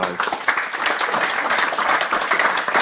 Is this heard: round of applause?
yes